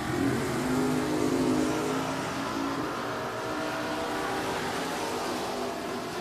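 A 1980 Chevrolet Malibu and a Chevelle drag race at Richmond Dragway, their engines giving a loud, continuous roar that holds steady from start to finish, heard from some distance with no voices.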